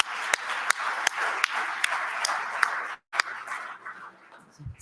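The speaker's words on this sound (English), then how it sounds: "Let's give a round of applause for new members." Scattered applause from a small crowd, steady clapping with a few sharp claps standing out, fading toward the end.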